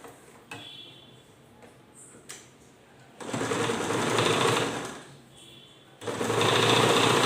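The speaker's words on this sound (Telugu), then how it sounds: "కొంచెం ఇలా నీట్గా సర్దేసుకొని ఇక్కడి నుంచి ఇంత కుట్టేద్దాం" Sewing machine stitching a frock, a few handling clicks and taps followed by two bursts of fast, loud, close mechanical whirring, the second starting after a brief stop, no talking.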